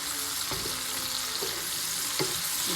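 Pork and mushrooms sizzle steadily in a pan, stirred with a few distinct scraping strokes spaced about a second apart over a continuous close frying hiss.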